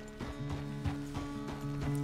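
Horse hooves clip-clop at a steady walking rhythm in the video game Red Dead Redemption 2, a soft, even series of hoof strikes with a low background hum.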